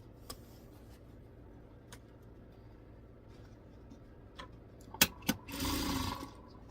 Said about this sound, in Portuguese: E agora aqui eu tenho que costurar o viés dobrado